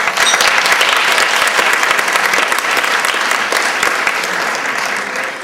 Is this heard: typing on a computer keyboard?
no